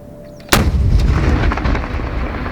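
A single loud, sudden flamethrower blast erupts nearby during military training in Donetsk region, followed by a long roaring, rumbling tail that slowly fades.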